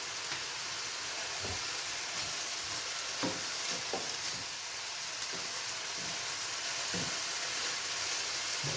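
Food being stirred in a frying pan, a soft continuous sizzle broken by scattered scraping and clacking strokes of a utensil at an uneven pace, quiet and close with no talking.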